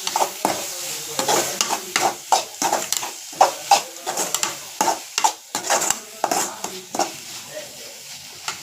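Onions with fennel, cumin and turmeric powder sautéed in a pan, a steady sizzle broken by repeated scraping stirs of a spoon against the pan, close and fairly loud.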